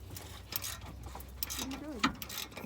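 Ratchet wrench clicking while loosening the lower exhaust headers on an Acura RSX, quick bursts of mechanical clatter with a low hum underneath and a sharp metallic knock near the end.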